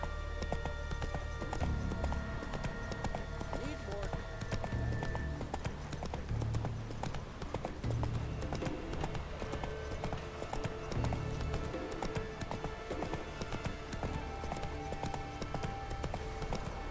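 Roach, a horse in The Witcher 3, gallops with a steady, rapid run of hooves clopping close up under a continuous backdrop of ambient game sound and music.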